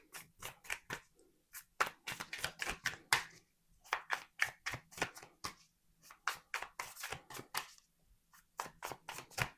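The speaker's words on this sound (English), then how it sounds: "I'm going to keep shuffling." Crisp, rapid riffling and snapping of tarot cards being shuffled, coming in quick bursts with short pauses, close and clear with no talking.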